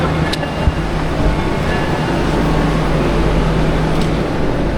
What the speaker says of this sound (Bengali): এইবার আমরা উঠে পড়লাম ইয়েলো লাইন মেট্রো ধরে রাজীব চক মেট্রো স্টেশনের উদ্দেশ্যে